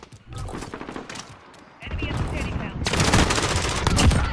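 Loud, dense automatic gunfire rattles in close rapid bursts during a Call of Duty Modern Warfare multiplayer match, with a brief lull, then heavy shooting again and voices mixed underneath.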